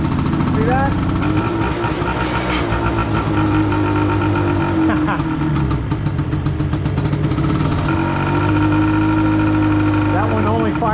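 An old Cub tractor engine runs on choke with a dead cylinder, giving a loud, steady, uneven chugging idle that rises slightly with throttle while people talk nearby.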